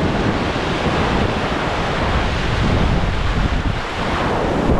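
Rough sea waves around a moving boat at sea, a loud continuous wash of surf and water with heavy wind buffeting the microphone throughout.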